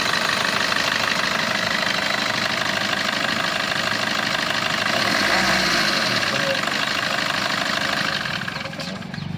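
A 2018/19 Maruti Brezza VDI diesel car engine idles loud and close, a continuous rough rumble with steady vibration that eases slightly near the end.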